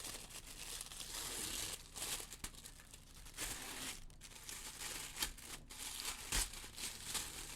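Close, quiet crinkling and tearing of a parcel's paper packaging, with tissue paper inside, in irregular bursts of rustling and sharp rips, no speech.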